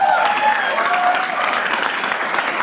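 An audience at a fundraising gala dinner applauds in a dense, steady patter of clapping from many hands, moderately loud and continuous throughout.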